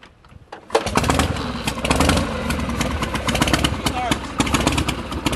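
A Harley-Davidson Duo Glide motorcycle engine cranks and fires up after a short quiet moment, then runs with a loud, close, rough and uneven idle throughout as a voice speaks briefly over it.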